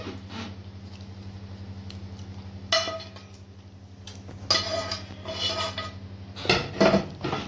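Two baking trays of pasta with béchamel and tomato set down in a kitchen, heard as a few metallic clanks and clinks over a steady low hum, with the louder knocks in the last second.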